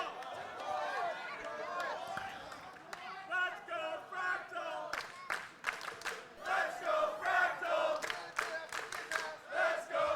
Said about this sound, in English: The crowd really getting into it right now.